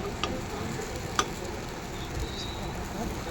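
Rava appe, a sweet dish of semolina dumplings, sizzle softly in an appe pan as they are flipped, a faint, steady frying hiss broken by a single sharp tap of the utensil.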